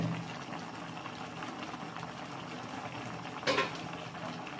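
Mutton boiling in a pot over a high flame, a steady low bubbling that carries on the whole time, with one brief clink of metal near the end.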